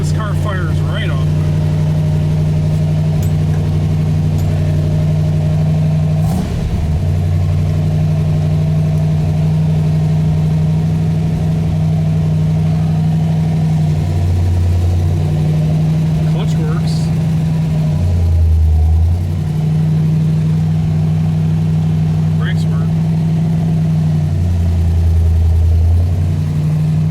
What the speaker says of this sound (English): This car fires right up.